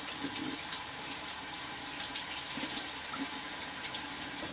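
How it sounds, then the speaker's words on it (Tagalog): Kitchen tap water running during handwashing, a steady moderate splashing flow close by, continuous and unbroken, with no talk. "Hugasan ko yung kamay ko."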